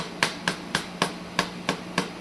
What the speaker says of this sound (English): Gotta hammer the pin through a little bit.